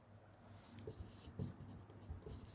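Pen scratching across paper while an answer is written, with soft, quiet strokes and small taps in an irregular rhythm, close up with no talk.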